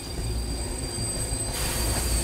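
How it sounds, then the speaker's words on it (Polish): A train rumbles past in the video game Beyond: Two Souls, a steady low rolling drone with faint wheel squeal that holds throughout, with no voices. "Jedzie pociąg."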